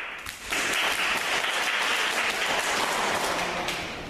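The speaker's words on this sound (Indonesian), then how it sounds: "tepuk tangan untuk Mbak Tika." A class breaks into applause for a student during a micro-teaching session: a brief pause, then sustained, even clapping that fills the room until the end.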